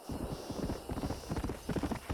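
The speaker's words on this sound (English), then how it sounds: "That's a new horse." Horse hooves clip-clop at a steady walking rhythm in a Red Dead Redemption ranch scene, close and moderately loud over a faint background bed, with no voices.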